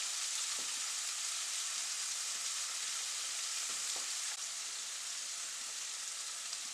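Deer liver pieces sear in a hot pan, giving a steady, close sizzling hiss that runs the whole time, with a few faint scrapes and stirs breaking through.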